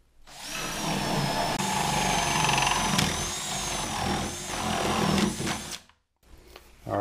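A power drill with a butterfly bit bores through an interior wall beside a stud. The loud, sustained whir wavers in strength for several seconds, then cuts off. A short burst of drilling follows after a brief pause.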